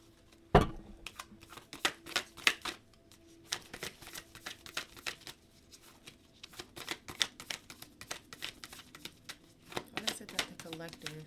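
Crisp riffling bursts of a tarot card deck being shuffled, repeated several times with short pauses between, close and clear, with a voice speaking now and then.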